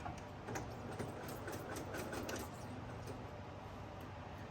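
A sewing machine stitches a half-inch seam on a flat-bottom tote bag, its steady mechanical whir running continuously at moderate volume with faint rhythmic clicking and no talk.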